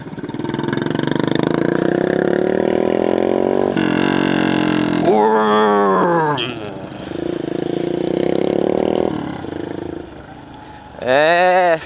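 A Kawasaki Ninja 300 motorcycle with its exhaust removed revs up with a rising drone, then drops off. Short bursts of voices break in between and after the engine sound.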